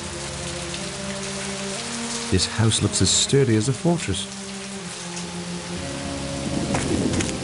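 Continuous rain falling in the Agatha Christie video game And Then There Were None, a steady hiss beneath a brief spoken line and a few soft thuds, with a low rumble swelling near the end.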